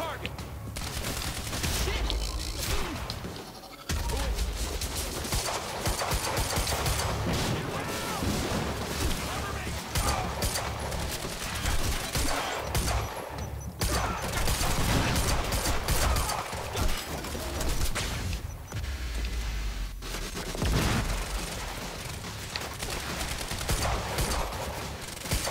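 Dense gunfire and explosions in the Quantum Break video game, a near-continuous barrage of shots and blasts with brief lulls, under intermittent talking.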